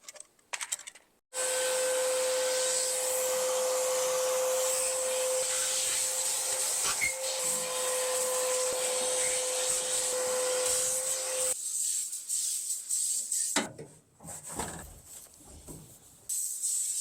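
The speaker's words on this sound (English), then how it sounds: "I'm going to vacuum out the inside of the car" A vacuum cleaner runs with a steady, loud whine while cleaning out the inside of a Toyota Supra being built as a NASCAR race car, briefly cutting off at the start and shutting down near the end, followed by intermittent clatter.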